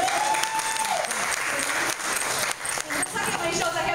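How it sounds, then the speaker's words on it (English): An audience applauds steadily throughout, a dense wash of clapping with a brief dip midway, while a voice talks underneath. "you should applaud for that"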